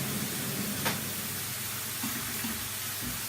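A kitchen fan runs with a steady broadband whoosh close by, mixed with faint sizzling and clinks from cooking at the stove.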